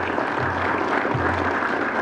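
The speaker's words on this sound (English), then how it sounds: "So I want to give y'all a round of applause for your support." A graduation crowd for an industrial workforce program applauds steadily, a dense, continuous wash of clapping with faint voices underneath.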